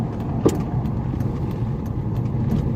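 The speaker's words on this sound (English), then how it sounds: "strange noise, and it sounded like it was coming from the power steering pump" Volkswagen Jetta engine running with a steady low mechanical drone and faint whine, suspected from the power steering pump, with a brief sharp click near the start.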